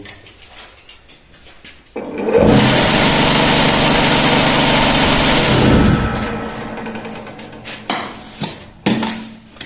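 A concrete block making machine producing five blocks with six cavities per block kicks in with a loud, steady mechanical vibration lasting about four seconds, then winds down, followed by scattered clanks nearby.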